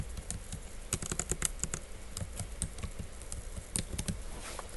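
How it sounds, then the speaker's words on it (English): Quick bursts of keystrokes on a computer keyboard entering dates into a reporting software field, light close clicks in uneven clusters with short pauses, faint and alone. "So I'll just type a couple in here."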